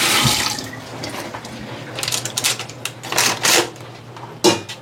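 Meat being washed under a running kitchen tap: a steady stream of water splashes into a sink, with scattered clatters and knocks as the food is handled, fairly close and with no talking.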